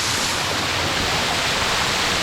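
A hidden waterfall at Zirad rushes steadily, a dense, loud, unbroken roar of falling water close by with no pauses.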